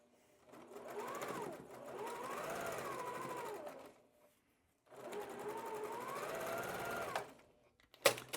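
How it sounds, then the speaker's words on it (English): A sewing machine stitches quilt fabric pieces in a continuous chain, running in two long steady bursts of motor whirring with a pause between, fairly close and alone, ending with a brief clatter. "And I'll begin chain piecing this now without doing any thread cutting originally or any ironing yet."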